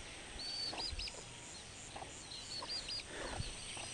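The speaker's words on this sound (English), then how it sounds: "Chicken." A chicken clucks outdoors in Togo, a few short soft calls repeating irregularly at a moderate distance over a steady background hiss, with high chirps from other birds mixed in.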